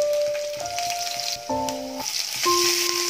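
Eight to ten garlic cloves fry in hot oil for spicy mutton sukka, a steady close sizzle with crackling. Soft sustained tones sound underneath.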